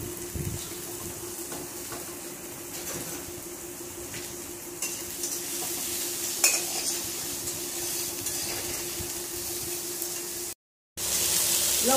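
Vegetables with green chili frying in a pan, with continuous sizzling and repeated scraping and clinking of a utensil stirring against the pan, ending in a short silent gap before the sizzle resumes.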